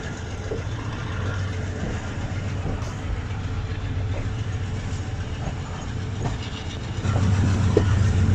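On board the Bahauddin Zakaria Express in Pakistan, a steady low rumble of the moving train carries faint clicks from the wheels, and the rumble swells louder near the end.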